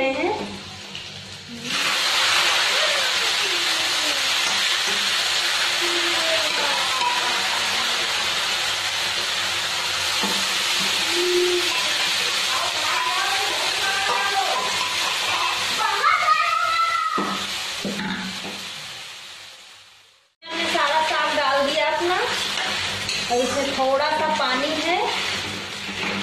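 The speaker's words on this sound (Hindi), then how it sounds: "अब इसमें हम ये साग डाल दे रहे हैं।" Boiled mustard and spinach saag dropped into hot tempering in a pan gives a loud, continuous hiss and sizzle, briefly cutting out then resuming, with a voice heard over it in places.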